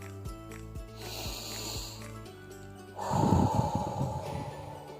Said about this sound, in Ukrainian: Давайте разом зробимо вдих носиком і сильний видих.